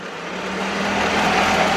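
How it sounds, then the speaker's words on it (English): A kitchen blender runs steadily, blending fruit for a chocolate filling, with a loud, even whirring drone that builds slightly over the short stretch and no talking. "We're just going to pour this into the blender."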